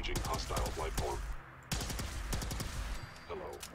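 Institute turboplasma rifle from Fallout 4 firing in quick bursts of sharp repeated shots, with a brief pause midway before another rapid volley resumes, all fairly close and prominent.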